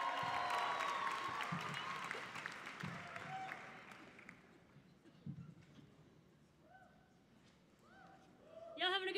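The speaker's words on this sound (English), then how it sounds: "Ladies and gentlemen, start clapping right now" Audience clapping and cheering at the NACA Showcase 2016 for Kristen Merlin, loud at first and fading out over several seconds, leaving a quiet room with a few scattered sounds.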